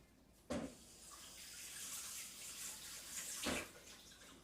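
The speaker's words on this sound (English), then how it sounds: "let me rinse my hands real quick" Tap water runs steadily as hands are rinsed under it in a kitchen, a soft, faint rushing with brief splashes near the start and again toward the end.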